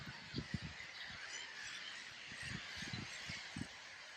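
A large flock of birds massing in clouds over a French town, calling in repeated short honking squawks at a distance, a steady faint chorus against background hum.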